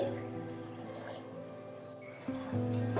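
Water pours steadily into a pot of spiced red lentils with a cinnamon stick for tarka, a soft, continuous trickle that swells slightly toward the end, with faint tonal background hum.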